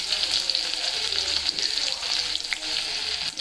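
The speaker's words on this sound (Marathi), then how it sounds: "कांदा टाकूया" Onion dropped into hot oil with cumin for dal khichdi, giving a steady close sizzle that holds throughout with faint clinks and stirring, no talk.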